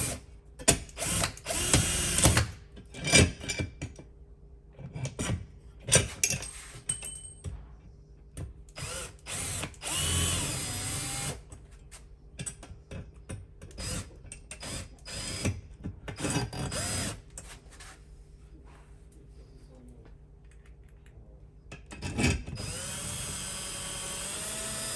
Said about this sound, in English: I'm going to take my power drill,